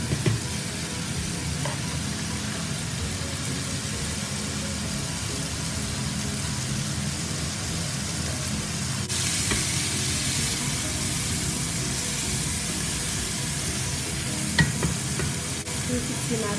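Onion, leek and bell pepper sizzle steadily in a pan while being stirred, a continuous close hiss of frying with faint scraping, no talking.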